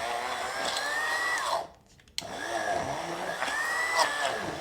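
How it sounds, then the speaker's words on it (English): An immersion blender whirs through a thick cashew cheese mixture, a steady high motor whine that wavers with up-and-down strokes, cuts out briefly for a moment, then starts again, close and with no voices. "And then I have my immersion blender right here."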